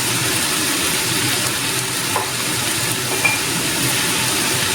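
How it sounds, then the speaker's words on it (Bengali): Broccoli sizzles steadily in a pan with turmeric and salt while being stirred, a constant moderate frying hiss with faint scraping touches, with no voices. "এবারে ভালো করে নাড়াচাড়া করে নিতে হবে ভালো করে হলুদ লবণটা মিশিয়ে দিতে হবে"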